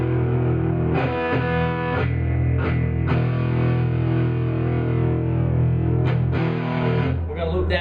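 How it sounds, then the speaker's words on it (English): Fender Deluxe Stratocaster electric guitar through a classic distortion overdrive, loud sustained distorted chords with several restrikes and harmonically dense tone ringing throughout. "let's try something with overdrive on classic, maybe classic distortion"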